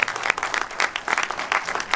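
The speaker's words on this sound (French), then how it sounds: "Alors, je pense qu'on peut l'applaudir très fort." An audience claps for a ski resort mayor at an evening film presentation in Valmeinier, dense steady applause with bright bursts of louder clapping, close and continuous throughout.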